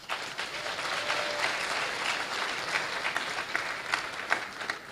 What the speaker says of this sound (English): Can you give yourselves a clap?